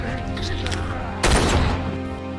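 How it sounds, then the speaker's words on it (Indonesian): A loud, close gunshot blast from a zombie film, a single sharp burst over a dense background of rumble and score, its roar trailing off over about a second. "dengan terpaksa Melanie menembak Eddie dengan ucapan selamat tinggal"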